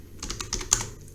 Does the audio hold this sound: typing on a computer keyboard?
yes